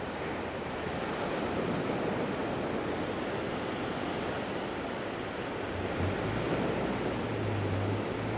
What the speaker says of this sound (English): Actually quite big waves once you see them come in.